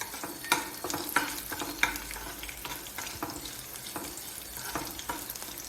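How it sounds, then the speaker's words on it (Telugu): Popu tempering crackles and sizzles in hot oil for a leafy greens curry, a close steady fry hiss punctuated by sharp pops and stirring scrapes, with no voices. "పోపు వేగిందండి"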